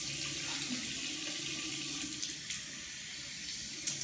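Water running steadily from a hotel bathroom tap while someone rinses their face, a continuous close hiss and splash with no talking.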